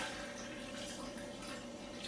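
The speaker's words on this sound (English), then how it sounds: "And all I'm going to do is pour the alcohol" Alcohol is poured steadily into the container of an air still as a continuous liquid splash and trickle lasting a couple of seconds, close and even, with no talking.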